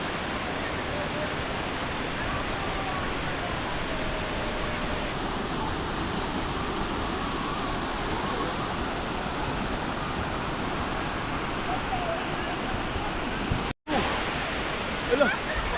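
Continuous rushing water flowing around a floating raft surrounds the listener, a steady broadband wash like flowing current, with a brief dropout near the end.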